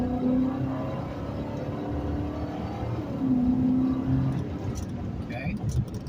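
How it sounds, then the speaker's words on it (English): Car accelerating hard with the pedal floored, a fairly faint engine drone rising in pitch from inside the cabin, with a voice briefly audible. "I just floored it, and I'm going over the speed limit"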